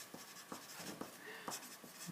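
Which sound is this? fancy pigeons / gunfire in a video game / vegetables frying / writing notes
writing notes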